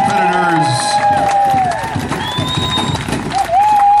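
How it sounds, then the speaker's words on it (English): A pow wow crowd cheers and applauds for the competing dancers, with scattered clapping and shouts under a steady murmur while whistling tones and talk carry over the top. "round of applause for all of our competitors"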